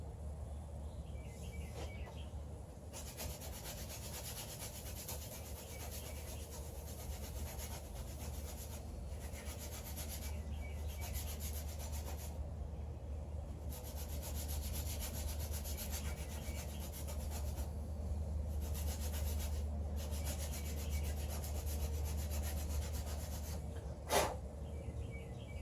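A wooden primitive self nock on an arrow shaft is rubbed smooth with long, steady abrasive strokes that continue close and even throughout. Faint birdsong sits behind, and one sharp knock comes near the end.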